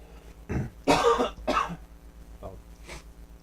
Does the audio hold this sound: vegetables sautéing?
no